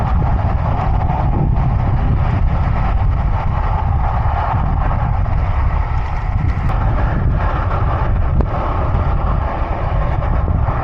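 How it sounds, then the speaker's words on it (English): Loud, constant wind buffeting a microphone while riding a bike on a hilly time trial course, a dense low rumble with no pauses. "Don't know if you can hear me with this wind riding"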